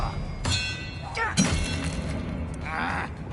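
An Expelliarmus spell is cast in the video game Hogwarts Legacy, with short magical bursts, a sharp shattering hit and a dull thump over a low game ambience.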